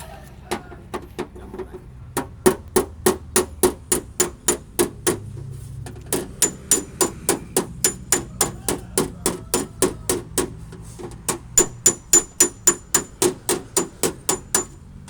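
A craftsman hammers a metal workpiece, ringing close strikes in long steady runs of quick regular blows, with brief pauses between runs and a low background hum.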